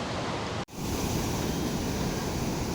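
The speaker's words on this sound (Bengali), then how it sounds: "কোভালামের হাওয়া বিচ" Surf at Hawa Beach in Kovalam, Thiruvananthapuram, makes a loud, dense, continuous roar, cut by a brief dropout before the rush resumes unbroken.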